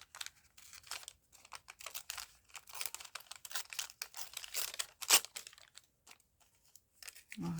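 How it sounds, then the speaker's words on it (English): Paper is torn slowly by hand in a long series of short ripping and crinkling bursts, close up, with brief pauses and no talking. "I'm going to just carefully tear it out"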